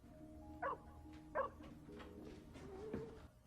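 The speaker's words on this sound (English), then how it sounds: "This poor dog has seen so much and he is just trying to communicate what he needs" A dog in a Stranger Things scene gives two short, quiet barks and then a thin drawn-out whimper, all faint over a low background hum.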